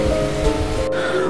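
Heavy rain pours down outdoors in a European spa town as a dense, loud, continuous hiss and patter close by, with low rumbling underneath and a brief drop near the end.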